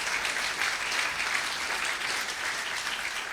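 An audience applauds city staff at a State of the City address, a steady, dense round of clapping that holds evenly throughout without fading.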